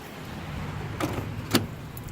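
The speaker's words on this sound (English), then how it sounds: "I'm gonna go on the outside and open up the doors and start to give a tour from there" Doors of a 2003 Honda Element being opened from outside, two brief close clunks about half a second apart, the second sharper and louder, over a quiet outdoor background.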